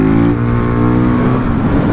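A loud, aggressive motorcycle engine holds a high, buzzing idle up close, droning steadily with a slight dip partway through.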